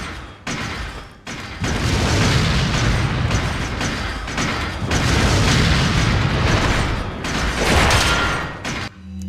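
Grenade explosions in Resident Evil 4 on GameCube, a string of loud booming blasts with thuds and debris rumble running almost nonstop and briefly cutting out between detonations.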